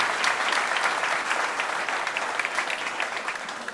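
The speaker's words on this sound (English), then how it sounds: "Give this man a round of applause." A packed Springfield town hall crowd claps for a combat veteran, a thick, steady ovation that gradually thins and softens over several seconds, with no voices heard.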